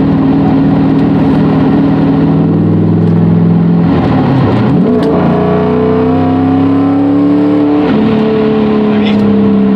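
An LS V8-swapped Porsche 944 accelerates hard, the loud engine note rising in pitch through the gears with a dip at each shift, heard close from inside the car.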